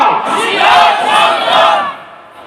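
A large crowd at a religious sermon shouts the takbir together, two loud swelling unison chants of many voices in a reverberant space that fade away at the end.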